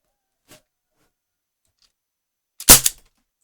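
A faint click, then after a pause a single sharp, close pop from a Sig Sauer MCX Gen 2 air rifle shot, with near silence around it.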